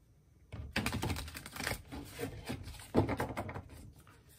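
Dense papery riffling and clicking of Light Seer's Tarot cards being shuffled, several bursts in a row with brief pauses, close and fairly quiet.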